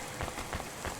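Steady rain falls in the video game Cloudpunk, a dense, even patter of drops on hard surfaces with no break and no voices.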